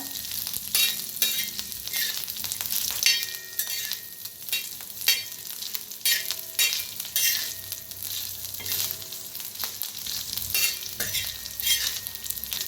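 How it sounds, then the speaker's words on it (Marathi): Green chillies roasting in a hot pan, sizzling and crackling steadily up close with repeated scraping stirs, no speech. "मिरची छान अशी भाजायला लागलेली आहे"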